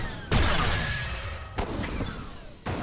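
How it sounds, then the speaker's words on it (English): Expendable Clunk's reload in the Awesomenauts game: a sharp metallic clank followed by decaying whooshing rattles, then two more clunky hits near the end, loud and close with no talking. "Expendable Clunk gets a reload sound like that."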